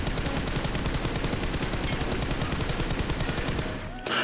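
A rapid spray of automatic gunfire in BGMI (solo vs squad on Erangel) hammers out as a dense, fast stream of close, loud shots, then cuts off abruptly near the end.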